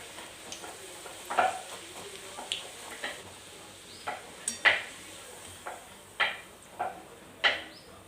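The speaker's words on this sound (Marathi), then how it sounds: "तर इथं मी ह्याच तेलामध्ये पुऱ्या तळून घेते" Puris deep-frying in hot oil for a festival meal, a soft continuous bubbling under a series of sharp clinks and scrapes from a slotted spoon against the pan, no talking.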